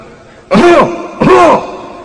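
Two loud, harsh cough-like bursts spaced a moment apart, imitated by a preacher's voice during a sermon, with a noticeable echo trailing each one.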